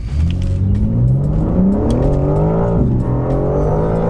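A stock new BMW M4 engine accelerating hard from inside the car, a loud steady roar with pitch climbing through the gears and a brief dip at a shift.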